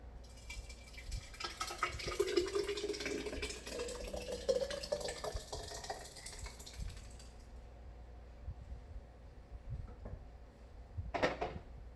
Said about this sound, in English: So I'm going to pour it in to my container.